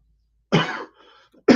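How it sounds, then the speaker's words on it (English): A single sharp cough, followed by a short throat-clearing rasp and the start of a second cough, close and loud in a quiet room. "Still have this little trickle of a cough that's still lingering"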